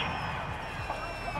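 A home stadium crowd at a Buccaneers–Panthers football game roars in sustained cheering after a penalty flag, a broad, steady wash of many voices with scattered whoops rising through it.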